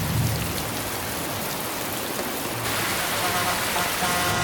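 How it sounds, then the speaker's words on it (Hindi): Heavy rain pours steadily and loudly as a dense, continuous hiss close by, with no break across the whole stretch. "कितनी बारिश है"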